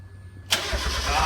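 The Turbosmurf car's engine cranks and catches on the start button, a sudden burst into a throaty idle after a moment of quiet, close and loud.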